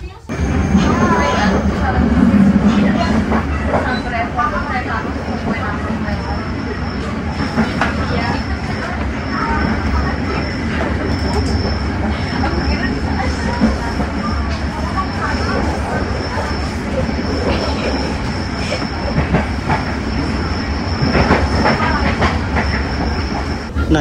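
A train rumbles steadily along the rails near Bandung station with rhythmic clacking and a faint high whine, while a voice talks over it throughout.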